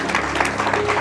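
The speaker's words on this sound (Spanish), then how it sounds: "Dale un fuerte aplauso al Rey de Reyes." A church congregation breaks into applause during a sermon, a dense, brief burst of many hands clapping with a faint tone sustained underneath.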